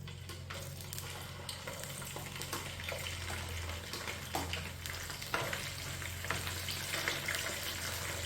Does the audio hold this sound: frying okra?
yes